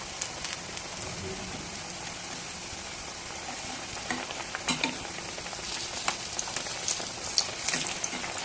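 Egg snacks frying in hot oil, a soft crackling sizzle with sharper pops scattered through, fairly quiet and close, with no clear speech.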